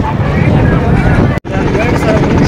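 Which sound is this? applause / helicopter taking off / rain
helicopter taking off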